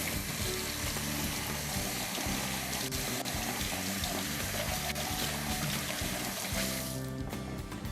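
Water runs steadily from a tap in a continuous splashing stream, loud and close, then cuts off near the end.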